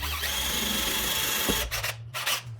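A power drill bores through pallet wood, its motor whining continuously and close for over a second before stopping and restarting in short bursts as the bit breaks through.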